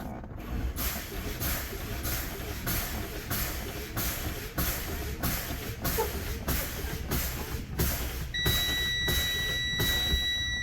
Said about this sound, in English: I'm going to fan my brakes